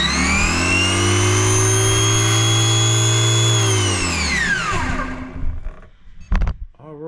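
A 2S RC drag car motor on a dyno, powered by a Pinky battery, lets out a loud, steady high-pitched electric whine for about four seconds before it winds down, followed by a few brief rattles.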